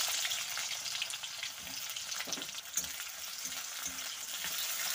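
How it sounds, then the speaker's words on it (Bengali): Chopped onions frying in hot oil in a wok with cumin seeds and bay leaves, a constant close sizzle with occasional stirring scrapes. "তো পেঁয়াজটা একটু ভাজা ভাজা করে নেব।"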